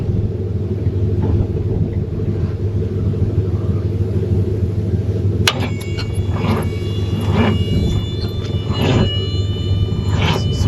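A 500 cubic inch engine that has sat unused for a while runs in a steady, heavy low rumble throughout, with faint metallic clinks and scrapes rising over it in the second half.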